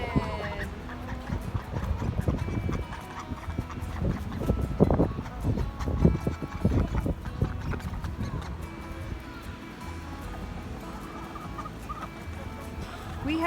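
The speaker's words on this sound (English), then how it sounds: "We had ducks a long time ago and we missed them, so our friend hatched us out some." A flock of backyard ducks, two females and a male, quacking and honking in loud irregular bursts close by, mixed with other poultry clucking and rustling, growing busiest midway before settling into softer scattered calls.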